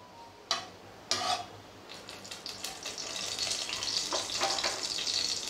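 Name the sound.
cumin, ginger, garlic and green chili frying in oil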